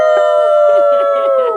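A group of people howl together like a wolf pack at a lively live show, a loud sustained chorus of overlapping voices imitating wolves, held steadily for the whole stretch.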